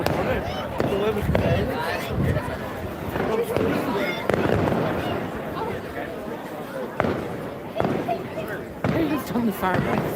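Fireworks at an outdoor band parade in Magherafelt, repeated sharp bangs and crackles at uneven intervals over a noisy crowd, with people talking throughout.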